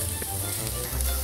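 Fish balls sizzle and crackle on a hot plate, a soft steady frying hiss close by, with no voices.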